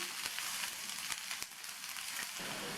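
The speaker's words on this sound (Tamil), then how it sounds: "அடுத்து கட் பண்ண குடமிளகாவை சேர்த்துட்டு எண்ணெயிலேயே நல்லா இதை 2 நிமிஷத்துக்கு வதக்கி விட்டுக்கணும்" Capsicum sautéing in oil for a Tamil pepper and chana dal stir-fry, a steady close sizzle and crackle running throughout with a few sharper pops.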